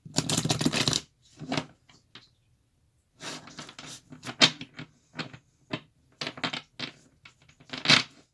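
A tarot card deck is shuffled by hand in close, crisp bursts of riffling and flicking cards, separated by short pauses, with no voices.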